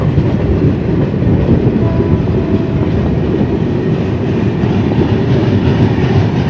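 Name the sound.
Awadh Assam Express train passing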